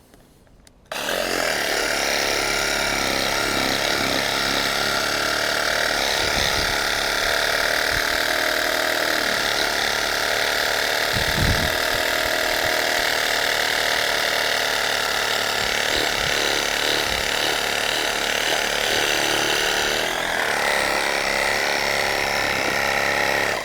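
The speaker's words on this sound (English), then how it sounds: "go with the sawzall one more time" A reciprocating saw (sawzall) cuts through the roots of a tree stump, a steady loud buzzing drone running continuously for the whole stretch with brief low thumps as the blade bites in.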